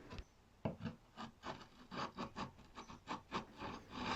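Hand chisel strokes rounding over the edges of a piece of ebony come as a rhythmic series of short, close scraping rasps, roughly two or three per second, with no voices.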